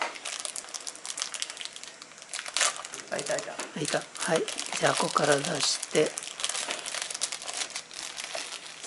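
A small taped micro:bit box being opened, with packaging crinkling and tape peeling in bursts close by, while a child and an adult talk over it.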